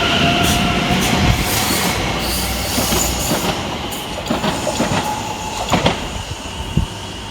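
A Greater Anglia passenger train working from Braintree to London Liverpool Street rumbles through a station on the Great Eastern Main Line, with a steady low roar, scattered wheel clicks and metallic clunks growing sharper toward the end.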